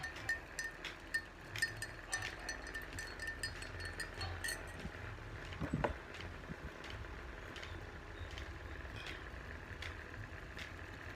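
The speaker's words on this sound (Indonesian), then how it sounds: "Kemudian tuangkan oralit sachet, serbuk oralit sachet ke dalam gelas yang berisi air. Lalu aduk sampai rata." A spoon stirs oral rehydration salt powder from a sachet into a glass of water, giving faint, scattered clinks against the glass over a quiet background.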